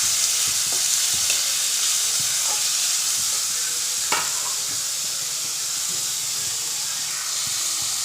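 Onions sizzle loudly and continuously in hot oil in a pan, being fried until reddish for an egg bhurji pav breakfast, while scattered soft clicks and scrapes of a stirring spoon sound close by.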